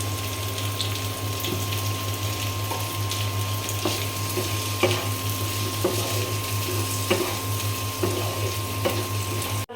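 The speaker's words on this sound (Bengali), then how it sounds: "আলুটা একটু তেলের সঙ্গে ভেজে নিয়েছি" Potato pieces frying in oil in a pan after onions, a continuous close sizzle and bubbling with occasional light clicks and scrapes, no speech.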